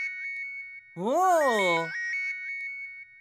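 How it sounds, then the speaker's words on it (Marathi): A tonal phone ringtone beeps in a steady repeating pattern, close and clear, briefly overlaid by a man's drawn-out, wavering vocal exclamation in the middle before the ringing continues alone. "शेठजी, कुठेतरी फोनची रिंग वाजते ना?"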